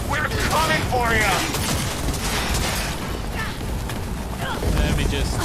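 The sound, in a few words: gunfire spending all ammo in video game Cyberpunk 2077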